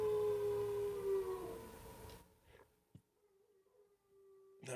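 A drawn-out dog howl rises over fading background noise, followed by near-silence and a couple of brief sharp sounds.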